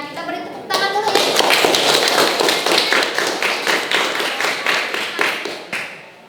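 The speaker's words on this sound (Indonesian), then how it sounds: "Kita beri tepuk tangan dulu ya" Classroom of students in an industrial electronics class clapping for a presenting group, a burst of brisk, close handclaps starting after a brief voice and thinning out near the end.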